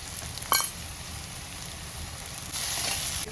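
A continuous sizzle of a tempering with peanuts and red chili powder in hot oil, with a sharp clink near the start and the hiss swelling louder toward the end.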